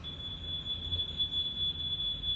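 A smoke detector emits a continuous high-pitched electronic tone over a low background rumble, steady and unbroken for its full length.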